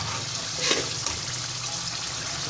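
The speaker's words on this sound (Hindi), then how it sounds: "ये पानी डालते हैं।" Water is poured into a pot of aloo gosht as it cooks, a steady, fairly loud rushing splash that runs the whole length without a break, with no one speaking.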